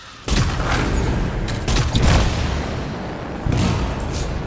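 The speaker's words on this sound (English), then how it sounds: "It'll be a contained explosion." A canister blows up in the video game Anthem, heavy booming blasts with a rolling, rumbling tail, loud and close, followed by further explosive thuds and crackling debris.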